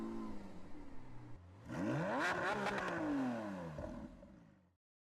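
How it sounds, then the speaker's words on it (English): Cadillac CT5 Blackwing engine cranks and fires, its revs sweeping up into a loud flare before dropping back to a settling idle, close and alone with no talk. "let's fire it up and get to some driving critiques"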